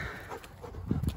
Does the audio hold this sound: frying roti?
no